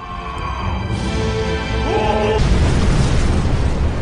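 A large cinematic explosion in a film naval battle erupts with a deep, rumbling boom that swells and lingers, loud and dominating, following a brief tonal musical passage.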